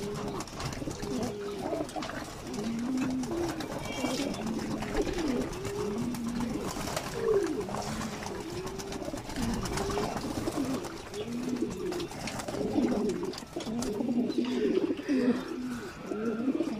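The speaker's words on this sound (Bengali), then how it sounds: "এই শীতের ভিতরেও দেখেন কত সুন্দর গোসল করে বন্ধুরা।" Pigeons bathing in cold winter weather coo over and over in soft, rolling bursts, with overlapping calls forming a steady, close chorus throughout.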